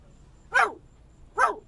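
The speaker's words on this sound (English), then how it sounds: "Hey, what are you barking at?" A female dog barks twice inside a Porsche Macan EV during a night-time charging stop on a road trip. The barks are sharp, fairly loud and about a second apart, with quiet in between and no talking.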